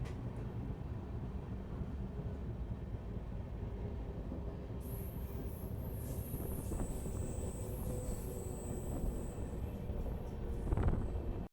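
Passenger express train on Indian NF Railway hauled by a WAP-7 electric locomotive, a continuous loud rumble of wheels on track with high metallic squeals, heard close from on board.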